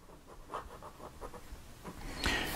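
A late-1950s Conway Stewart fountain pen nib scratching across textured Fabriano paper, giving soft, slightly rough strokes in a quick irregular rhythm, faint and close, ending in a sharper scrape.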